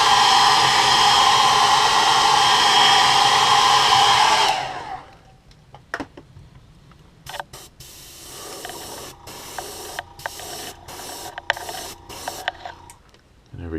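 Heat gun blowing a loud, steady rushing hiss while heat-setting paint on a walleye crankbait, cutting off after a few seconds to quieter handling noises and clicks.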